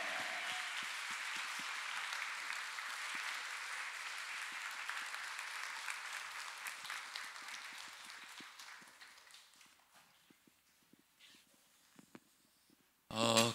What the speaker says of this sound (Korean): 주님께 감사와 영광의 박수 올려드립시다.